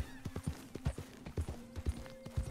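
Horse hooves in Red Dead Redemption 2, a quick rhythmic clip-clop of several close, distinct footfalls over a couple of seconds, with a faint steady tone in the background.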